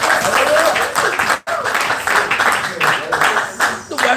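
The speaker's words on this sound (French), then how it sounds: "Applaudissons pour le Père." A church congregation claps together, a loud rolling applause with a brief sharp gap partway through, mixed with voices speaking and calling out over it.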